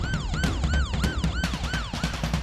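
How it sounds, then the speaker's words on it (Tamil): A police vehicle siren wails in rapid repeating up-and-down sweeps, loud and close, cycling about five times with a busy rumble of traffic underneath and no talking. "என்ன போலீஸ் வண்டி சத்த மாதிரி இருக்கு?"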